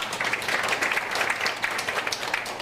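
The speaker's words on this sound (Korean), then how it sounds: "언론사 취재진 여러분들께도 감사의 박수 부탁드립니다" An audience at a forum applauds with dense, steady clapping for a few seconds, and the applause fills the room evenly.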